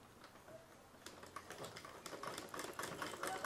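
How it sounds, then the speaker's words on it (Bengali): A sewing machine stitches the folded fabric of a homemade mask, a fast steady needle chatter that grows slightly louder, close and alone. "তারপর সেটাকে সেলাই করে নিতে হবে"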